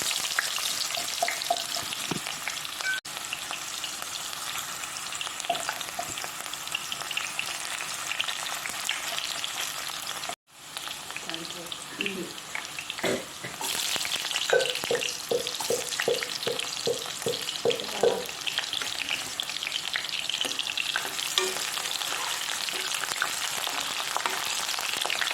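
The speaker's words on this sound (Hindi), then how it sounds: "ऑनियन फ्राई किया गोल्डन कलर हो चुका" Onions fry in a little oil in a pan for a duck curry, a constant close sizzle and crackle. A brief drop midway is followed by the scrape and clatter of stirring, with no voices.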